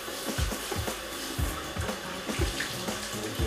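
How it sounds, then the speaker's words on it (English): Water splashing and dripping as a warm towel is wrung out over a sink, a steady wet patter with irregular heavier drips. "Wring out the water and come back behind"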